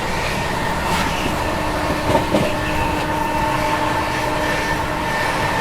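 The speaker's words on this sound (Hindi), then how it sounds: "तो भाई साहब अभी करंट स्पीड देख लो अपनी दुरंतो एक्सप्रेस की, ऑलमोस्ट 120 मेंटेन किए हुए" The Delhi–Yeshwantpur AC Duronto Express runs at about 120 km/h near Amla Junction, heard from aboard as a loud, steady rumbling roar with faint rhythmic wheel clatter and a brief metallic jolt midway.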